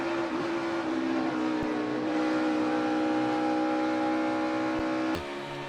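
A NASCAR Cup Series race car engine drones in a sustained steady tone, heard loud from onboard, with a brief sharp change near the end.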